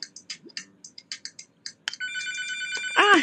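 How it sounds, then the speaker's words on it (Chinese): A telephone ringtone bursts in, a bright repeating electronic melody that grows louder, preceded by a quick series of soft tapping clicks. "啊，电话来了。"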